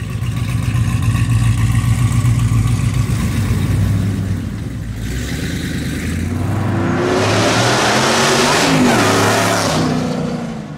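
A 1,000-horsepower Hellcat-swapped Dodge Dart with a Magnuson supercharger idles with a rough rumble, then revs up hard into a rising, whining roar close by before easing off.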